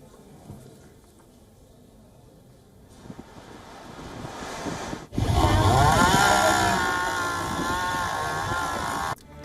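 Strong storm wind gusts from Storm Isha in the UK, a rushing roar that builds and then hits hard, buffeting the microphone loudly before cutting off.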